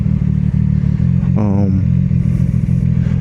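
A CFMOTO 675SS motorcycle is ridden, its engine holding a steady close droning hum with a brief rise in pitch partway through, as on a rev or gear change, under wind noise.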